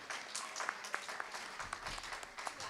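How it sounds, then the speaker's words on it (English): A debate audience claps faintly and unevenly for the facial recognition panel, with scattered individual claps sounding thin and somewhat distant before thinning out. "give this panel, both sides, a round of applause"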